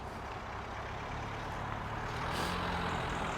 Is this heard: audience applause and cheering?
no